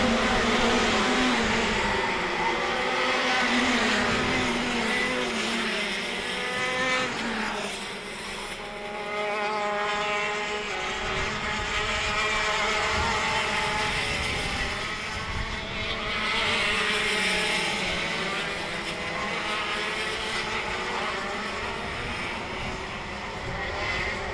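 Racing karts scream around a kart circuit in a pack, their high-revving engines rising and falling in overlapping waves as they pass through corners and down a short straight, loud and continuous.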